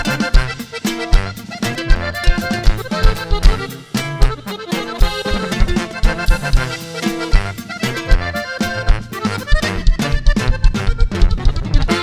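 Live corrido performance, a full band playing loudly and continuously with a driving rhythm and dense instrumentation, no speech over it.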